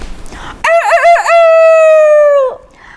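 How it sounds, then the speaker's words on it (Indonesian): A rooster crows loud and close, one full cock-a-doodle-doo with a wavering start and a long sustained final note, after a brief softer lead-in. "Kata ayam tuh suaranya membangunkan Aisyah"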